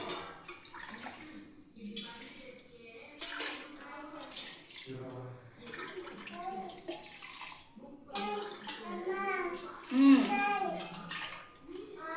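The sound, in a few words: water poured into pot for chicken biryani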